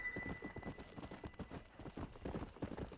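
Hooves thudding quickly in a rapid galloping rhythm as a horse is ridden in Red Dead Redemption, fairly quiet and steady, with faint tack jingle and no talk.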